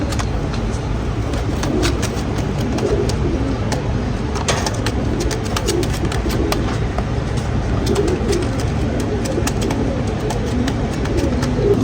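Jonsery kabootar pigeons, including a red-footed ringed male, coo continuously up close over a loud, steady background hiss.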